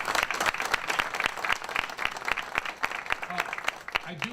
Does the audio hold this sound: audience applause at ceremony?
yes